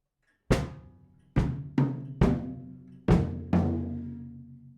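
A drum fill of six sharp hits with ringing tails, moving across snare and toms in an uneven rhythm, close and loud with no voices.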